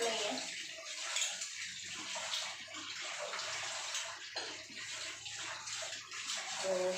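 Tap water runs steadily into a kitchen sink while dishes are washed by hand, a close continuous rushing splash with faint clinks and a voice talking over it.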